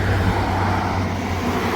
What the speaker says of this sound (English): let me zoom in after these cars go by